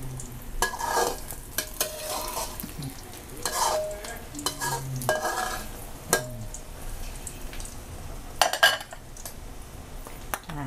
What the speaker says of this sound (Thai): พอไข่เราเหลืองสุกแล้วนะคะเพื่อนๆเราก็จะเอาปลากระป๋องลงนะคะมันกรอบนะคะ